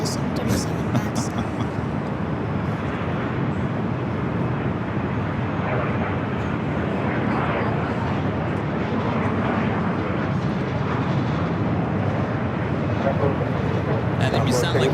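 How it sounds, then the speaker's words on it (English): A United Airlines Boeing 737 MAX arriving at LAX from Boston, heard as a steady, loud broadband jet roar lasting the full stretch, with people talking over it. "arrival here on the north side is United Airlines Flight 311 coming in from Boston on the 737 MAX"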